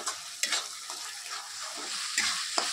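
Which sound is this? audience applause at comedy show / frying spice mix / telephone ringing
frying spice mix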